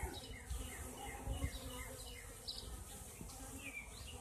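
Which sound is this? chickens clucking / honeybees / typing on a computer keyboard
honeybees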